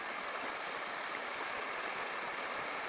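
Shallow stream water runs in a low channel with a soft, steady rush and gurgle, faint and continuous throughout.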